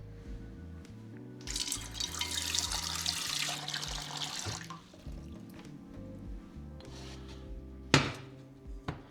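Tap water runs into a pot for boiling ramen noodles, a steady rushing stream for a few seconds that then stops, followed by quieter kitchen clatter and a sharp knock near the end.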